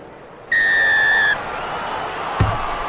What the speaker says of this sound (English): Standing by for the referee's whistle to get us underway